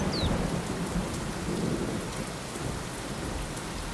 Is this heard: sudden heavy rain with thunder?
yes